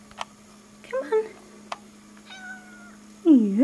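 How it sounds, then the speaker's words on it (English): A Russian Blue cat meows near a bird, a few short chirping sounds and then a louder drawn-out meow at the end, over a steady hum with sharp ticks. "Yes, kitty, kitty, talk to the birdie."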